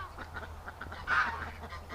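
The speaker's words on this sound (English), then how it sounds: "the geese are going back in there" Wintering geese give a faint honk among soft fowl calls, with a low steady hum running underneath throughout.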